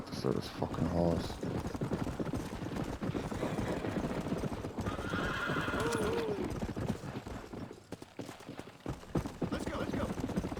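A horse galloping in the Western video game Red Dead Redemption, its dense, driving hoof beats running throughout with a loud whinny partway in, while someone talks intermittently over the action.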